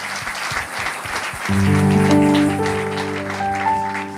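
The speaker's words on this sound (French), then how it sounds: "Acclamez pour vous-même." Church congregation in Brussels applauding during a sermon, a sustained dense patter of clapping rising suddenly and holding steady, with a sung or keyboard tone sounding underneath.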